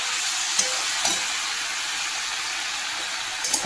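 Vegetables with cumin, coriander, tomato and ginger fry steadily in a pan, a continuous bright sizzle with a few soft clicks of stirring, heard alone at close range.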